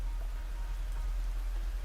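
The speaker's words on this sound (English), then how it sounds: "It's raining?" Steady rain in a kung fu video game, a dense, even hiss of falling drops with a low rumble beneath, continuous and fairly loud throughout with no voices.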